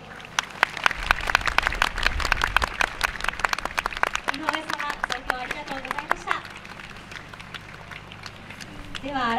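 Audience applause at the awards and closing ceremony of the 20th Kuroshio Yosakoi festival, dense rapid clapping from a large crowd that gradually thins, with a voice speaking over the later part.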